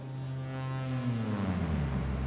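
A low, sustained synthesizer tone from a Nonlinear Labs C15 hums quietly, its pitch gliding smoothly downward as it drones on.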